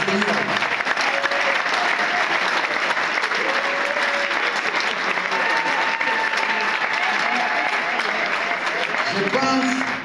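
A large crowd applauds without pause at a political launch event in the DRC, acclaiming the Lord. The dense, loud clapping runs steadily for about ten seconds, with a few voices rising through it.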